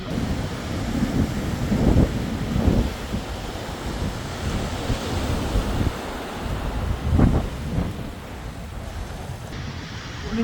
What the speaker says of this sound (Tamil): இந்த அலைகள் எப்படி ஓய்வதில்லையோ அது மாதிரி நம்ம உழைப்பு ஓய்வு போடுறதில்லை